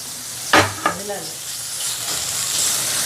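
Green chilies sizzle in oil in a pan for a vanjiram dried fish thokku. A couple of sharp scraping stirs come first, then a steady, close hiss of frying.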